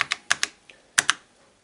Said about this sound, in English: So at the keyboard we're going to type in load.